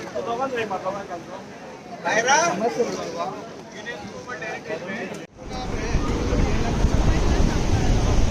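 Strong, rough sea waves surge and crash at a beach in Goa under a grey sky, a steady loud roar with wind buffeting the microphone, while people talk over the water for the first few seconds.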